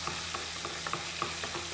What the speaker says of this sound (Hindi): तड़का हमारे पास तैयार हो रहा है।